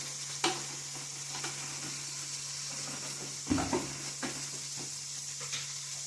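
Spice masala sizzling as it fries in a pan over a wood fire in a village kitchen: a steady hiss throughout, broken by a few sharp clatters of stirring, with no talking.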